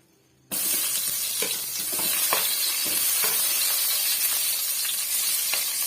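A large halved onion hits hot oil in a pan with a sudden loud sizzle, then settles into a steady close hiss and crackle, broken by occasional soft stirring taps.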